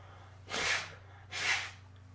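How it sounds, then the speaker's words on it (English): Two short, breathy bursts of someone blowing their nose, about a second apart, close but quiet over a low steady hum; no speech. "hold on a second. I gotta blow my nose."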